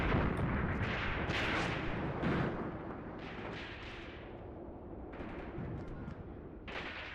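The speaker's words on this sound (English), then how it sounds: "they've just got so much machine gun fire over here" Battle sounds from the Graviteam Tactics: Mius Front war game, with a dense, continuous roar of distant gunfire and heavy booms that stay loud throughout and ease slightly toward the end.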